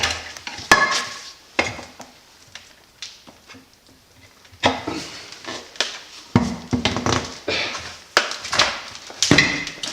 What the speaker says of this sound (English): grab your spoon, start prying